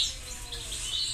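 Three newly hatched goldfinch chicks chirp in their nest, a faint, high, brief twittering over low background hum.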